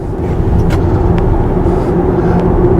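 Inside a Deepal E07 electric ute as it accelerates through traffic toward a 100 zone, a loud steady road and tyre roar with a faint electric whine, a few brief clicks, no talk.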